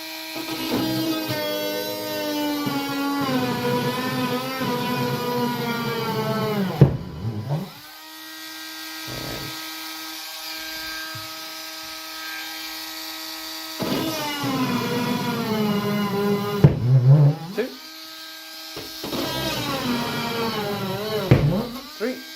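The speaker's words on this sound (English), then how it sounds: "I've got my rotary tool" A rotary tool cutting into a model railway layout gives a high, steady motorised whine rich in overtones, running for several seconds, dropping out, then starting again for a shorter second burst, close and loud.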